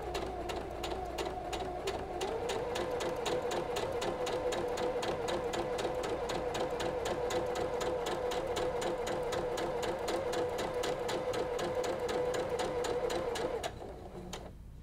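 A sewing machine stitches pinned half-square triangle quilt block pieces, a fast steady whirring hum with rapid needle ticking that runs evenly for about fourteen seconds before slowing and stopping.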